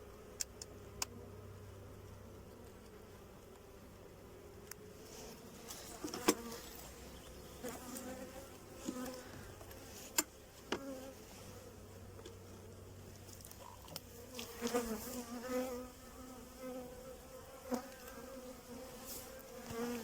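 Honey bees at an open hive during spring feeding time, a faint continuous buzzing close by with individual bees droning past and occasional soft ticks and handling sounds.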